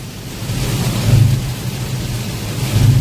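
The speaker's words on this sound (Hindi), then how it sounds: "तूफानी बारिश चल रही है, तूफानी एकदम।" Stormy rain hisses and roars steadily on a highway drive between Solapur and Hyderabad, swelling in strong low gusts, with no one talking.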